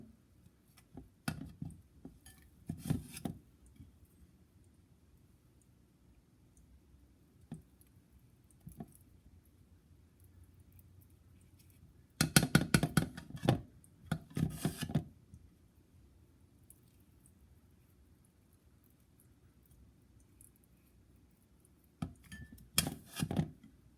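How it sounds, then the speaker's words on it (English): Cooked food is scooped from a bowl into a blender in a home kitchen for a vegan dinner, soft wet squishes and spoon clicks in short bursts separated by quiet pauses, fairly close and faint. "Scoop it into our blender."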